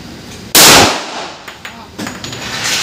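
A loud, close Cal. 45 pistol shot cracks at a firing range, followed by fainter shots and range noise, with a voice calling commands nearby.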